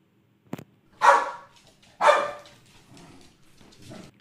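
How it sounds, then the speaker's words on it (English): A dog gives two sharp, loud barks about a second apart, after a short click, followed by a softer low trailing sound. "Dog barks."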